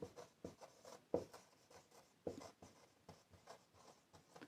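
Writing on a board during a physics lesson on electricity, heard as quiet irregular strokes and taps with short pauses between them. Close and faint, with no talking.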